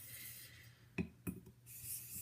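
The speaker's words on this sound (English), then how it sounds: "Now you can hear more raspy sound again on the stone." Steel straight razor blade rasping against a sharpening stone during dent repair, a soft continuous scraping texture with two sharper strokes standing out, close and fairly quiet with no talking.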